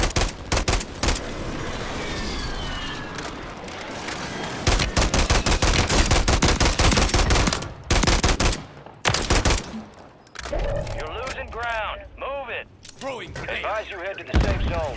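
Gunfire in the video game Call of Duty, with dense rapid automatic bursts and single shots, loud and close, broken by brief pauses and softer distant shots toward the end.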